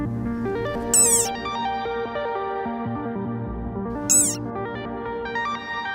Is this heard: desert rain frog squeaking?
yes